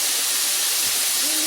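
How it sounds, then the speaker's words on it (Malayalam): Four large onions sauté in hot oil for a Kerala-style beef biryani gravy, producing a loud, steady, close sizzling hiss with no break and no voices. "4 വലിയ സവാള എടുത്തിട്ടുണ്ട്. അത് നന്നായിട്ടൊന്ന് വഴന്ന് വരട്ടെ."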